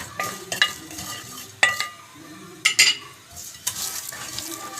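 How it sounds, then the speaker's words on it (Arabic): Onion and spices stirred in a frying pan: a steady low sizzle close up, broken by several sharp scraping clatters of a utensil against the pan. "هنزل بالبصلة والبهارات، اقلبهم كويس اوي."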